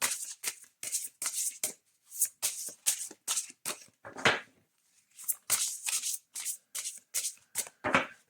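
A deck of witches' sabbath oracle cards is shuffled close by in quick rhythmic bursts of riffling and slapping, with short pauses between runs.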